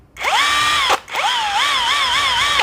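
A cheap cordless JLD impact wrench runs in two bursts. Its motor whines up sharply, stops briefly, then spins again with a wavering, slightly revving pitch, loud and close with no talking.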